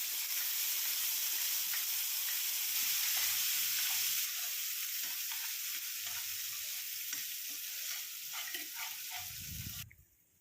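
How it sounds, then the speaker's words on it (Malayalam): Ground onion tomato chutney hisses and sizzles steadily in hot coconut oil in a pan, with a spoon scraping and stirring through it; the frying stays loud and continuous before cutting off abruptly. "ഈ അരച്ച് വെച്ച ഒണിയൻ ടൊമാറ്റോ ചട്നി ഇതിനകത്തേക്ക് ഒഴിച്ച് നമുക്കൊന്ന് ജസ്റ്റ് ഒന്ന് പതുക്കേനൊന്ന് കുക്ക് ചെയ്തെടുക്കാം"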